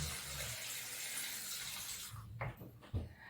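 Tap water runs steadily over salad greens being washed in a sink, a soft close hiss that then thins into a few splashes and light clinks.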